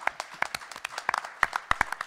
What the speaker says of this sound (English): let's give Audrey one more last round of applause for what she's done